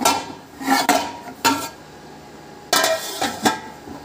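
A metal lid set down over a pot holding a homemade tea cake, several loud clanks and scraping knocks in two bursts with short pauses, close up and without speech.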